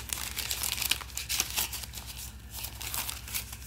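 Folded marbled paper from a handmade lapbook crinkles and rustles up close, with a continuous run of dry crackles and small crisp bursts, alongside a faint low hum.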